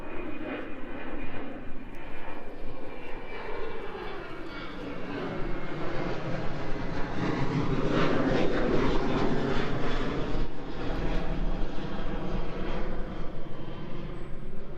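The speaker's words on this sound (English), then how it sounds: "I'm going to go ahead and let the plane go by" A fixed-wing airplane flies overhead near outdoor pump tracks in Washington, its engine roar swelling steadily and peaking toward the middle before holding loud, continuous and close.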